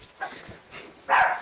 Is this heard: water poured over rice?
no